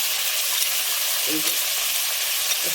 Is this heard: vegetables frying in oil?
yes